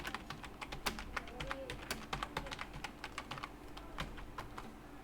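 Rapid, uneven keystrokes on a computer keyboard while a search phrase is typed into a web form, with close, crisp clicks in short bursts and no talking.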